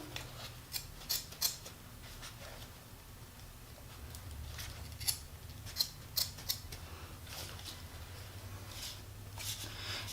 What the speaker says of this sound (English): And just cutting along the perimeter.